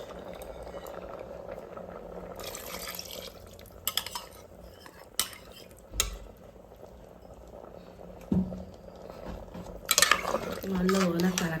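A pot of coconut milk vegetable curry with potato simmers on a lit stove, a low bubbling bed broken by sharp clinks of a spoon or ladle against the pan and stirring scrapes, fairly quiet and close.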